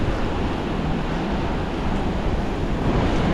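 Sea waves on a beach make a steady, loud rushing wash with wind noise blowing across the microphone, continuous throughout and without talk.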